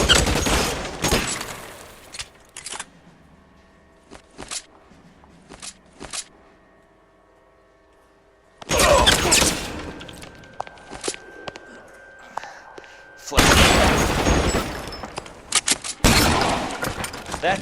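Gunfire in the video game L.A. Noire: bursts of rapid shots at the start, again from about 9 to 10 seconds and from 13 seconds on, with quieter single shots and footsteps between them over a steady musical drone.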